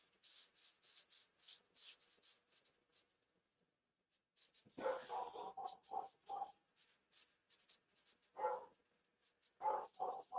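A dog barks in several short, repeated bursts nearby, following a stretch of steady scratchy rubbing like a pencil colouring on paper, with quiet moments between.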